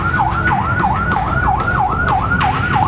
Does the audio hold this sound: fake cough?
no